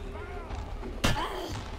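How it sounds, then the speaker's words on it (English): Zombies bang on a door in the video game State of Decay: one sharp, heavy thud rises midway through a steady, murky background rumble. "Oh, they're banging on the door."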